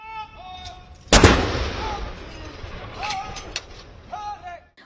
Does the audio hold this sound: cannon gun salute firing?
yes